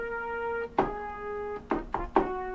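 A full brass section from the Session Horns library plays held chords broken by short accented stabs, bright and close with no voices.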